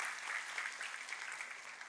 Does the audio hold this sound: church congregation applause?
yes